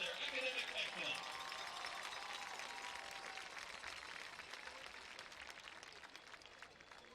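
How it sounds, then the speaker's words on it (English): A crowd in the stands at a Bentonville vs. Fayetteville varsity football game applauds students for academic excellence. The clapping sounds faint and distant, a steady wash that follows a brief voice at the start. "Let's give them all a round of applause for their academic excellence."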